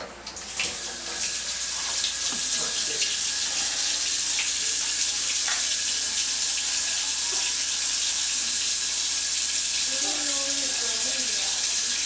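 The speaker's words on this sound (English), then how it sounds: "The first thing I'm going to do is wash my hands." Tap water runs steadily into a sink as hands are washed before cooking shepherd's pie, a continuous close hiss of flowing water with faint clinks and a brief muffled voice near the start.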